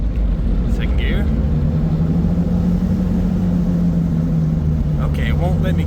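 A Smart car engine accelerating in second gear, a steady droning hum with a slowly rising pitch, with someone talking briefly over it.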